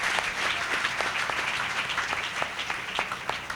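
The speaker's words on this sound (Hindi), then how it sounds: "ताली बजा के प्रभु को महिमा दे।" A church congregation at a Palm Sunday service claps together, a steady crowd of hands with sharp individual claps standing out now and then, with no talk over it.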